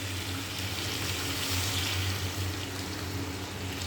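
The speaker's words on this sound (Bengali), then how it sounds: "আমার কষানো রেডি, এবার জল দিয়ে দেবো।" Water poured into a hot pan of spiced chicken curry sets off a steady, hissing sizzle that stays even throughout, quiet and close with no talking.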